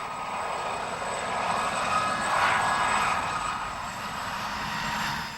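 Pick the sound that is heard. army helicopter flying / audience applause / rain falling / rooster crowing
army helicopter flying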